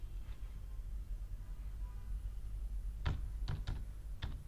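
A few quick keystrokes on a computer keyboard, four sharp taps clustered near the end over a steady low room hum, with no talking.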